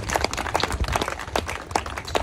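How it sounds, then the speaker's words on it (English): A church congregation claps for Jesus, a brisk, slightly uneven burst of many hands at moderate distance, rhythmic and continuous for the couple of seconds with no talking over it. "Shall we clap for Jesus on behalf of grandma?"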